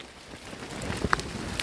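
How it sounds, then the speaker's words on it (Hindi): Rain patters outside Swargdwari cave, a soft steady hiss with a few louder drop ticks near the end, distant and low-level. "बारिश भी आ चुका"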